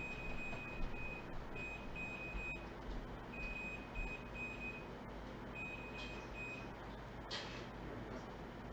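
An indoor motion sensor alert sounds as a series of repeated, evenly spaced electronic beeps, fairly faint over a low background hum.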